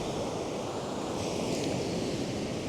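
Ocean waves wash steadily onto the shore beside a seaside campsite, a continuous broad rushing surf with some wind, no voices.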